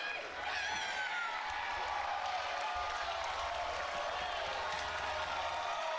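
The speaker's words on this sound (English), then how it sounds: "You can hear the crowd erupting." A wrestling crowd at a women's match roars and cheers in a big arena. The noise is dense and fairly distant and holds steady throughout.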